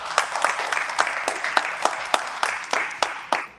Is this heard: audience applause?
yes